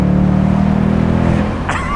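A naturally aspirated Ford Mustang with an automatic gearbox accelerates hard. The engine drones loud and close in a rising, steady pull, then the note drops as a shift comes near the end, with no one speaking over it.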